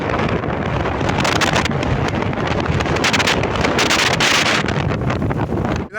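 Strong wind roaring around a patched, battered tent during rainy weather in Spain, a loud continuous buffeting rush with gusty surges and heavy wind noise on the microphone, no voices.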